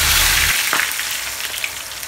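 Oil heating in a pan for frying birista onions crackles and hisses steadily, after a brief low rumble at the start, with a soft splash-like burst partway through.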